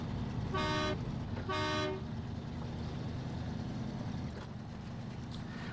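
A truck horn gives two loud, close blasts in quick succession in the off-road driving game SnowRunner, over a steady engine drone that carries on after.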